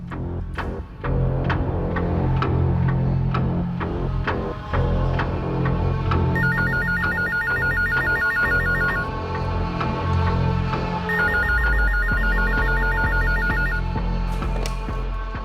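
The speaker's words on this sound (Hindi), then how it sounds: "अज्ञात औरत का फोन कॉल दोबारा आया" A telephone rings with an incoming call in two separate bursts of bright, repeating electronic trills over a low background hum and scattered knocks, with no one speaking.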